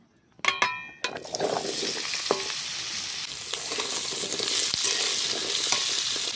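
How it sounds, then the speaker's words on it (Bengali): Pumpkin pieces drop into hot oil in a pan with a sharp clatter, then settle into a loud, steady sizzle with occasional stirring clicks, no voices. "এবার আমি কুমড়োটাকে ভেজে নিচ্ছি"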